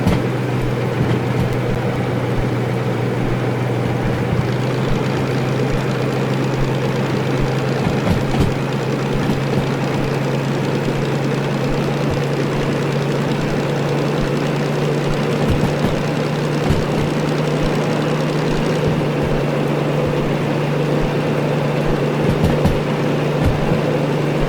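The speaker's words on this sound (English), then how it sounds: "Revs up in case we need to engine brake here." A low, steady diesel-mechanical locomotive engine drone in the video game Derail Valley, revving continuously with a persistent deep hum and occasional clanks over the long stretch.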